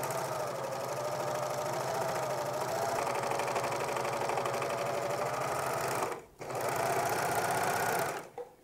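A sewing machine stitching a pajama leg seam whirs in a fast, steady, close mechanical rattle, pausing briefly once before resuming and then stopping near the end.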